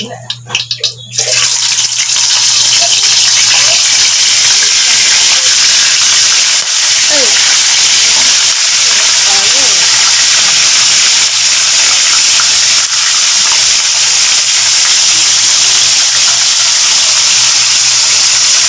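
Loud, steady sizzling fills the clip, a dense hiss of onions frying in hot oil in a pan, continuing without pause after a brief quieter start.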